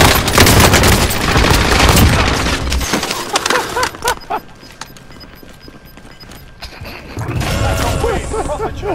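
Heavy automatic gunfire from a Call of Duty Modern Warfare shootout, loud sustained bursts that thin out to sporadic shots midway and then swell again near the end, with voices talking over it.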